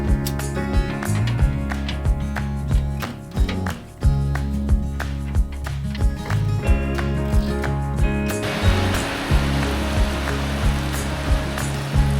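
Rain falls on the metal roof of a pole barn, sounding as a steady hiss of drops with repeated sharp taps and knocks running through it, growing denser toward the end.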